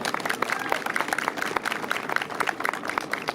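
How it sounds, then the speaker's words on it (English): An audience claps throughout at a jazz band's Christmas performance, a steady, dense patter of many hands at moderate volume. "let's give another round of applause for these guys for opening up today"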